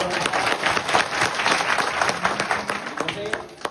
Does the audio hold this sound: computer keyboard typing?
no